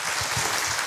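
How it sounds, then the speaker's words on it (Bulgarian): Steady applause from a crowd at a pageant crowning ceremony, a continuous wash of clapping throughout with no voices standing out. "Вашите аплодисменти."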